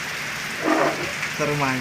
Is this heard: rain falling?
yes